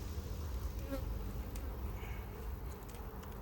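Honey bees drone around an open hive at an apiary, a dense, low continuous hum with a few louder passes as individual bees fly close, quiet overall with no talking.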